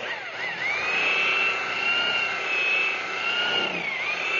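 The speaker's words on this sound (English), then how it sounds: "bringing the RPMs up and down according to the amount of buffing he's doing" Electric car polisher fitted with a woolen pad buffing a panel, a whining motor tone that climbs and dips as the speed control changes, steady and fairly close.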